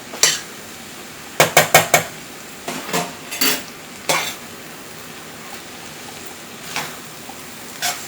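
A hashbrown taco casserole with corn being stirred in a pan, with several clattering scrapes and knocks of a utensil against the pan in short bursts, some grouped in quick runs and others spaced apart.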